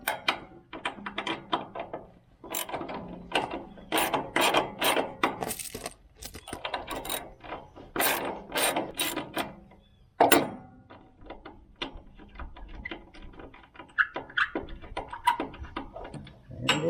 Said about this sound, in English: we're supposed to just remove this bolt right here.